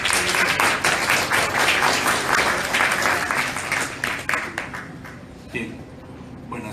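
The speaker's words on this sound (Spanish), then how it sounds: "Nos recibimos con fuertes aplausos" A large audience at the Lima book fair applauds loudly and steadily, the clapping dense and continuous before tapering off near the end.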